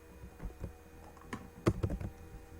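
Someone types code on a computer keyboard while programming a Microchip PIC microcontroller in C, producing a handful of close, quiet key clicks with a quick burst of keystrokes near the end.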